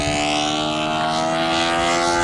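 A light aerobatic airplane pulls a tight corner, its propeller engine droning steadily and loudly throughout with a sustained, slightly wavering whine and no voices.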